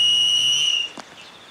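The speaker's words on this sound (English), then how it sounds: "So Matt brings out the search and rescue whistle." A single shrill, steady blast from a search and rescue whistle, loud and close, held for nearly a second before cutting off sharply.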